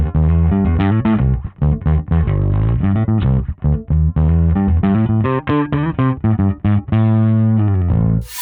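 An electric guitar played through a Neural DSP Quad Cortex plays a run of notes with reverb and delay, the tones ringing out with a washy, echoing tail.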